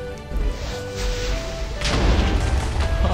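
Godzilla smashing through terrain in the Minecraft Godzilla mod video game, a continuous heavy rumbling crash that swells louder and denser midway, dull booming impacts layered over sustained noise.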